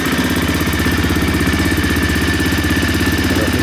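An Aprilia Pegaso Cube 650 motorcycle engine idles steadily after starting with the choke fully open, producing a loud, close, even mid-pitched chug with a clattering pulse and no pauses.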